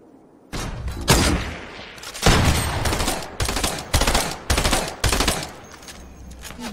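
Loud video game gunfire sprays toward the player in repeated rapid bursts, each volley booming and fading before the next.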